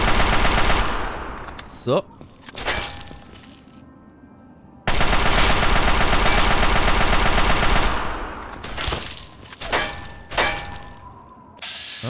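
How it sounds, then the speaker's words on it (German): Gunfire in Fallout 3, including a shotgun, comes as long, loud, rattling bursts of shots split by a sudden quiet gap and sharp single cracks, with a brief spoken word in the mix. "Ja, immer schön daneben schießen, ne?"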